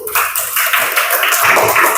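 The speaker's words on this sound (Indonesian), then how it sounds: "Beri tepuk tangan untuk Mas Yoda" Students in a classroom lesson on Islamic religious education clap together for a classmate, giving a loud, fairly dense burst of hand claps that lasts a couple of seconds.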